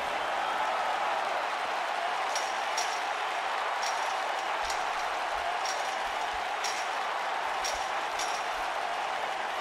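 Video game arena crowd at a Hell in a Cell women's wrestling title match, a dense, steady roar of cheering and applause with occasional sharp pings cutting through.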